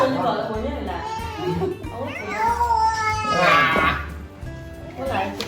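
A cat meows several times among children and adults talking and playing indoors in a Thai home, its calls rising above the lively chatter.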